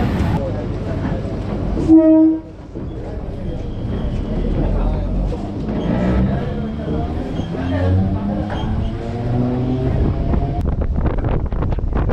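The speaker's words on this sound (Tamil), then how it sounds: "இப்போது ட்ரெயின் உள்ளே என்ட்ரா வருதாங்க அண்ணனூர் ரயில்வே ஸ்டேஷன்" A suburban passenger train rolls into Annanur railway station with a steady rumble and wind buffeting the microphone, a short tonal whistle or squeal near the start, and voices murmuring under the noise.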